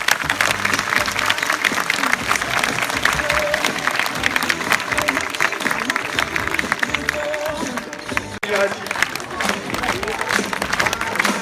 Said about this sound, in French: Je pense que l'on peut applaudir très fort.